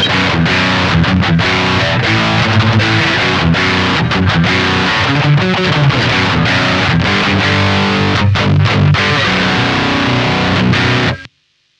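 Distorted electric guitar reamped through a Radial JCR reamp box with its filter set flat, playing a loud, dense, continuous rhythm part for about eleven seconds before cutting off abruptly.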